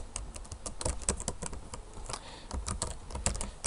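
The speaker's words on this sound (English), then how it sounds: "I'm just tabbing and then typing." Rapid typing on a computer keyboard, with dense bursts of key clicks and brief pauses where the tab key moves between form fields, close and clear with no voices.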